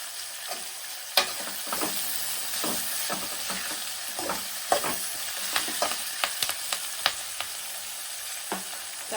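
Onion, curry leaves, garlic and chillies fry together in a pan for tamarind rice, a continuous close sizzle broken by irregular stirring scrapes and clicks of the spoon against the pan.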